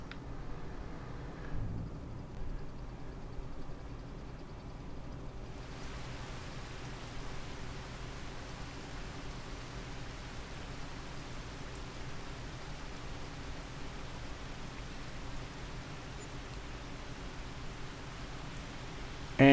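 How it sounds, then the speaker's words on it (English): Rain begins in a farming video game, a broad hiss that swells in after a few seconds and then holds as a steady, even downpour under a low engine-like rumble, with no talking. "And it's starting to rain."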